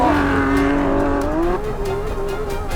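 A Lamborghini Aventador SVJ Roadster pulling hard in Corsa mode with traction off, its engine howling loud and close with a rising tone, a brief dip at a shift, then climbing again.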